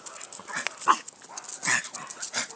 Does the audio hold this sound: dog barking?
yes